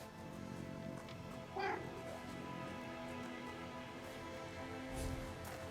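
In the video game No Rest For The Wicked, a cat gives a single faint meow over a steady ambient hum, and a quiet voice is heard briefly nearby.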